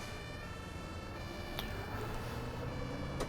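A steady wailing ambulance siren in the bus simulator game Omsi 2, set in heavy Berlin rush-hour traffic, runs through the whole stretch over constant traffic rumble, with a brief sharp click partway through; no voices.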